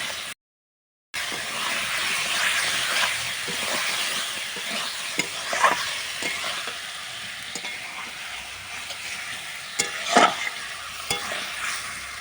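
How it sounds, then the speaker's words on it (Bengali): Chicken being stir-fried with spices in a pot over an outdoor clay stove under a tarpaulin, giving a continuous loud sizzle with periodic scraping stirs and a few sharper clanks, after a brief silent gap at the start. "তো চলো আমি মাংসটা কষাতে থাকি আর তোমরাও দেখতে থাকো"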